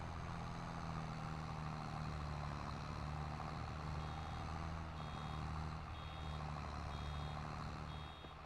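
Almost-full warning on a baler in a farming video game, a thin high beep repeating about once a second over the steady low drone of a tractor engine, with no talking.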